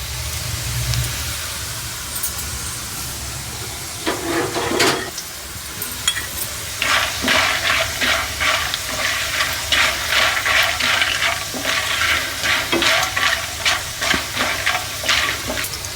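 Ingredients for protein laddus sizzle as they roast in a hot pan while a spoon scrapes and stirs in repeated strokes, close and fairly loud, with no voices.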